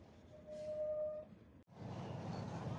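Metre gauge train running through the Gir forest between Junagadh and Talala, a steady rumble of rolling wagons heard from on board with a brief tone early on and a short drop before the noise resumes.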